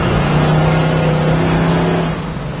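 A 1966 Chevrolet Nova engine holds a strong, steady rev with a deep droning hum for about two seconds, then eases off slightly.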